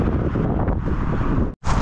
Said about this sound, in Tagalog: Alam ko kung saan papunta yung hangin ngayon, yung bagyo ngayon.